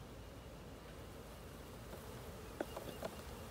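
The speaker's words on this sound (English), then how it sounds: "I'm gonna take this and put this up at the front so these bees will go back into the hive." Honeybees buzz steadily and densely up close during a hive inspection, a continuous swarm hum with a few brief knocks or clicks near the end and no talking.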